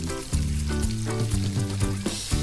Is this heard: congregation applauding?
no